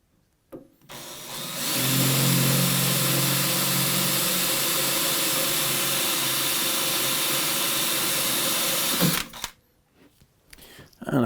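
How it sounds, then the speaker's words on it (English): A power drill bores a hole during a single-cylinder diesel ride-on mower conversion, running as one loud, steady whine for about seven seconds before cutting off, with faint clicks and handling noises before and after. "So, we will drill that."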